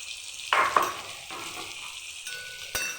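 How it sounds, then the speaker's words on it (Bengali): Spices, ginger and chili paste fry in a pan and get stirred, with a steady sizzle broken by sharp scraping strokes and a bright clank of the utensil near the end. "এখন আমি নেড়ে চেড়ে নেব"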